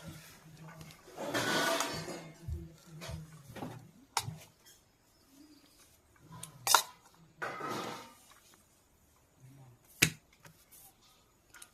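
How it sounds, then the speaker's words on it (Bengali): Rice being served onto a plate at home: scattered clinks and scrapes of a serving spoon against dishware, a few sharp knocks and a short burst of rustling, fairly quiet and close with pauses between. "থালায় নিয়ে নিচ্ছি ভাত"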